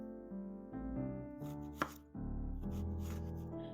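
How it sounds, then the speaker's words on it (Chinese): A knife chopping an onion into slices and then fine pieces on a board, a run of close, sharp cuts and taps over soft background music, with one louder thunk partway through. "先切成片，然后再切成洋葱碎"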